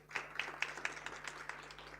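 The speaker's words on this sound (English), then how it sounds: "Let's congratulate South Africa with a round of applause." A small seminar audience at a G20 gathering gives a faint, distant round of applause: a handful of sparse, evenly spaced claps that soften into lighter scattered patter, with no talking.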